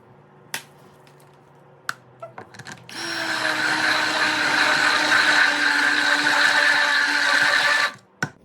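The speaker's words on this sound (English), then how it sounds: "after I hit it with the stick blender" A few sharp clicks, then a stick blender whirs loudly for about five seconds with a steady high buzz while mixing coconut milk cold process soap batter, before cutting off, followed by a final click.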